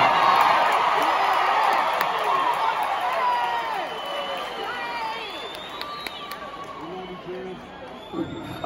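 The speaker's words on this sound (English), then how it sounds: "I love that that gets a cheer sometimes" A large arena audience at a concert at the MS Coast Coliseum in Biloxi cheers, whoops and shouts loudly and continuously, the roar slowly fading with scattered individual yells.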